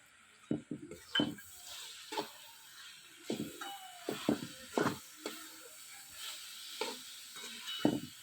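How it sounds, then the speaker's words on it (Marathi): Grated coconut and other ingredients stirred together in a pan: repeated close scraping strokes and clinks of utensil on metal in an irregular rhythm, clear and moderately loud, with no talk. "आता हे सगळं व्यवस्थित मिक्स करून घेऊया"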